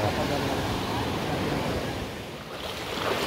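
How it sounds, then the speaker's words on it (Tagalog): Water of the Tinipak River rushes steadily and loudly close by, a continuous broadband wash with wind buffeting the microphone and a slight dip in level midway. "Guys, may daanan ng tubig,"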